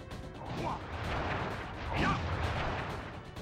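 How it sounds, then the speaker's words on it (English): Firework attack explosions in the Sly Cooper video game: several booming, crackling blasts swell and fade in quick succession, loud and close, with a fiery whoosh around the middle. "I will send you to your doom with the beauty of my new firework technique, Flame Foo"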